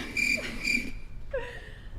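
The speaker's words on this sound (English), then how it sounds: "These fucking crickets over here" Close, shrill cricket chirps in two quick bursts, followed by a brief higher trill.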